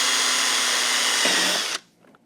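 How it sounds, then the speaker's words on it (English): Power drill boring a pilot hole into a plastic battery box for an electric go-kart upgrade kit, a loud steady whine that changes tone as the bit cuts through and then stops abruptly, leaving near silence. "Hold the battery box firm and drill your pilot."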